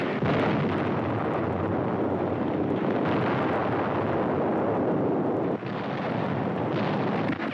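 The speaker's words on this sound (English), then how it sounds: "Enemy communications are torn to pieces by American artillery and daring flyers who dominate the skies over" Continuous, dense rumble of artillery fire and explosions from a 1944 World War II newsreel, a steady roaring barrage with brief bursts, loud and unbroken, with no talking.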